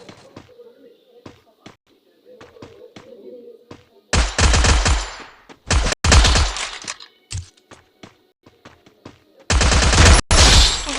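Several loud bursts of automatic gunfire from a shooter video game erupt between quieter stretches of faint clicks and footsteps, close and sharp, with a voice speaking briefly in between.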